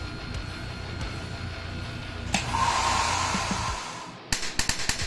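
A hair dryer runs steadily at close range, used to loosen residue from a guitar fretboard, then cuts off, followed by a few sharp clicks and knocks.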